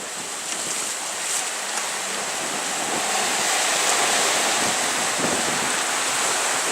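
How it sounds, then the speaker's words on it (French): Wind builds around a racing sailboat at sea on the Transquadra 2017 Lorient to Madeira leg, a continuous loud rush of gusts and breaking waves swelling steadily with no voices. "le vent monte un peu"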